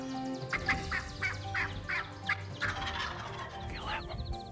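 Wild turkeys gobble in a series of repeated bursts at a moderate distance, with a steady outdoor background during a hunt.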